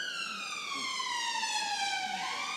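A wailing emergency siren passes by outside during a quiet meditation session, its high rising-and-falling tone loud and steady throughout, with no talking.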